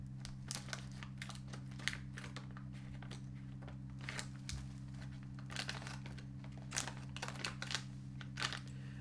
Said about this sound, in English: opening it up, we will use my special extra fancy channel scissors